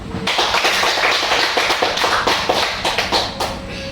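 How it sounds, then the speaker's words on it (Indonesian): A classroom of students clapping hands after a religion lesson recitation, a dense close burst of claps continuing steadily throughout. "Tepuk tangan."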